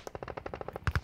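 Rapid gunfire in the video game Hand Simulator, a quick burst of about a dozen clipped shots that ends in several louder, heavier bangs.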